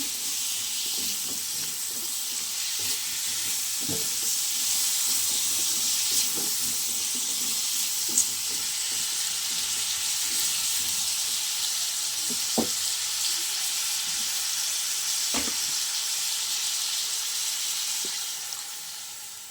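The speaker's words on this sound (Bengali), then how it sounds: "এবার একটু নাড়াচাড়া করে জল দিয়ে দেবো, হালকা একটু ভেজে নেব।" Food sizzles steadily in a hot pan after salt and turmeric are added, giving a constant bright hiss that lasts throughout, with occasional faint clicks and stirring taps.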